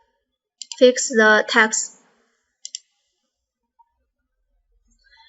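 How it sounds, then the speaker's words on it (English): Two quick, crisp computer mouse clicks come close together just after a short spoken phrase, followed by a faint single tick in an otherwise quiet room. "Click the mouse."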